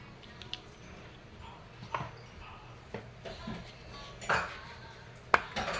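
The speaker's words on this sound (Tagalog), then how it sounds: "ibabalik ko lang yung mag base" A magazine base being fitted back onto an E&C airsoft Glock 18C (EC-1103) makes a few light, scattered metallic clicks and taps, close and fairly quiet, with no talking.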